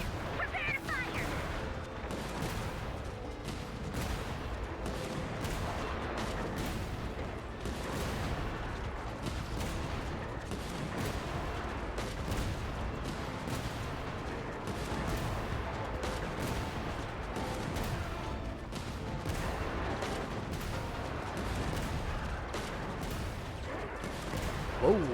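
Repeated artillery fire in Genshin Impact's Nod-Krai area, a long irregular series of sharp blasts and crashes with low rumbling booms, fairly quiet and sustained throughout.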